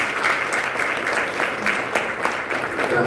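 Audience applause greets a woman coming on stage, a steady, full wash of many hands clapping throughout, fairly loud and unbroken.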